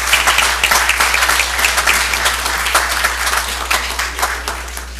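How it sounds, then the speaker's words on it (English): Audience applauding at a school board meeting, a dense, steady wash of clapping that fills the room, fairly loud and close, with a constant low electrical hum underneath and no talk. "let's give a round of applause for our champions of change this month"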